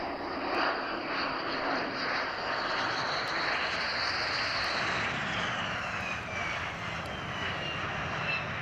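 F-16 fighter jets roar at an airfield in the dark, a broad, distant jet-engine rush with a whining high tone that slowly shifts pitch as the aircraft moves, steady and unbroken with no speech.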